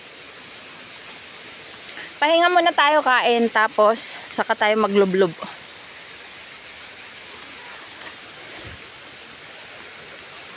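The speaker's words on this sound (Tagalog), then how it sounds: "Doon tayo sa may pumapatak na tubig." Water spilling over rocks at a forest waterfall makes a steady, even rushing hiss that fills the whole stretch, with people talking briefly in the middle.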